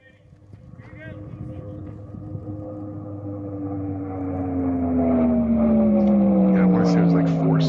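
A land speed race vehicle making its run on the Bonneville salt flats, a steady engine roar that builds in loudness and falls slowly in pitch as it passes, with a faint wind-like rush underneath.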